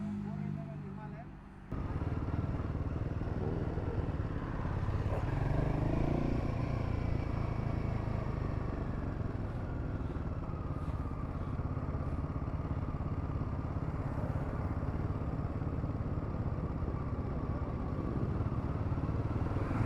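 Royal Enfield Himalayan 411 motorcycles ride together in a group, a steady, continuous engine drone with wind rush that holds fairly even throughout after a brief quieter moment at the start.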